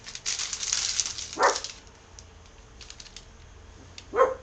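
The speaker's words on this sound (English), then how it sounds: "that's my dog, barking" A corgi barks indoors in two short bursts, one early and one near the end, over a faint background of light tapping and clicking.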